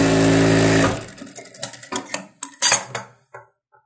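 A sewing machine hums steadily for just under a second while stitching blouse lining for a saree blouse, then stops and gives way to scattered clicks and light metallic clatter.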